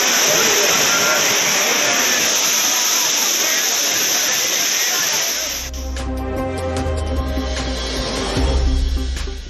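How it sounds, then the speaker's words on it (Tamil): Courtallam waterfalls pour with steady flow, a loud dense roaring hiss for about six seconds that then cuts to music under a newsreader's voice. "குற்றால அருவிகளில் சீரான நீர்வரத்து."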